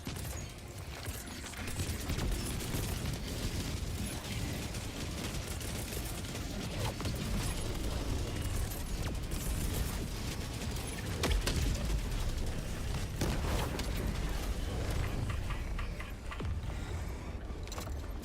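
Rail cannon strikes raining down in a video game, a dense, sustained barrage of booming mechanical impacts and rumbling fire that stays loud and continuous for the whole stretch.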